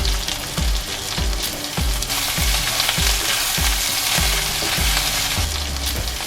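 Pork belly sizzling and frying in a wok with minced ginger, with a loud continuous crackle and repeated rhythmic scrapes of stirring throughout.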